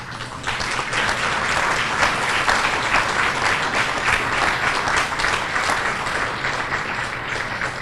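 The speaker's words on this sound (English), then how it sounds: "Teachers, will you please stand for a round of applause?" A banquet hall audience applauds the teaching staff at a school academic banquet, a sustained, dense wash of many hands clapping, loud and steady throughout without pause.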